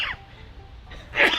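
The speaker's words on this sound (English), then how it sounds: "You talked about going fishing and you started sneezing." A person sneezes once, a short sharp burst near the end after a faint breathy onset, heard close up over a quiet background.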